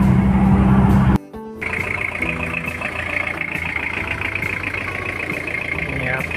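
Engine of a used 1997 Toyota Mighty-X pickup idling with a steady low rumble throughout, briefly cut to near silence after about a second before the running engine sound resumes; no speech.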